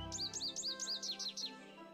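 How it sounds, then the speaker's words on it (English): An American goldfinch call played in a video game: a quick run of about seven bright, high chirps in a steady rhythm, close and clear with no talking. "American goldfinch."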